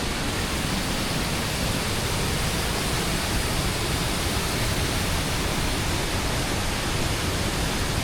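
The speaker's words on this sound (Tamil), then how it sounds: "அற்புதமான ஃபால்ஸுங்க" Sembarangulam waterfall in Tamil Nadu, falling high among mountain peaks and flowing on toward the Varadhamanadhi dam near Palani, roars as a dense, steady wash of loud, even noise with no pauses.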